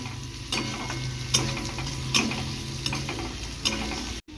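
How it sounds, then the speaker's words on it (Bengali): Kharkol leaf paste goes into a frying pan with onions fried red. A steady close sizzle carries a few scraping stirs and clicks, then cuts off briefly near the end. No one speaks. "লাল লাল ভাজা হয়ে গেলে এর মধ্যে আমি খারকোল পাতার বাটাটা দিয়ে দিব"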